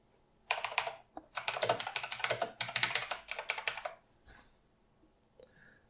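Rapid keystrokes on a computer keyboard clatter in dense bursts with brief pauses, close and moderately loud, trailing off into a few scattered taps near the end.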